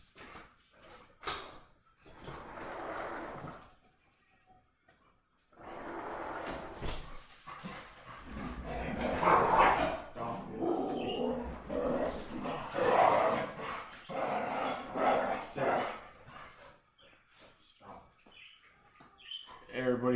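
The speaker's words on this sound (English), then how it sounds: "my dogs are acting crazy right now, so I'm trying to get them to calm down" Several pet dogs bark and whimper excitedly indoors, in scattered loud bursts with a few quieter gaps, and brief chirpy sounds appear between them.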